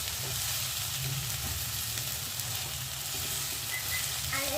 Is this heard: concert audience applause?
no